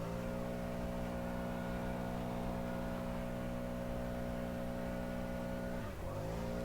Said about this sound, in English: that's using the blower at the park